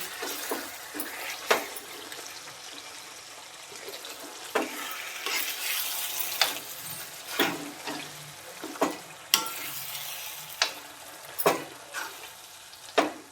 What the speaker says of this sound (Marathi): हे आपलं पावभाजी मटेरियल मिक्स करून घेऊया